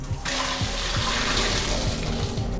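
Water pours steadily through drained chickpeas in a kitchen while tempeh is being prepared, a continuous, close, fairly loud rush with faint low thumps underneath and no talking.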